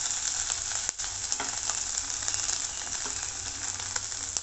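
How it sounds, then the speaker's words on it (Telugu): Ginger pieces frying in hot oil, a steady close crackling sizzle with a few sharp spits and pops, no talking. "అల్లం బాగా వేగాలి"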